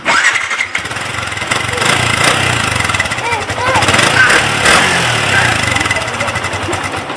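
A Yamaha Exciter 150 motorcycle with a newly fitted exhaust header starts up close by, then settles into a loud, steady, rumbling run.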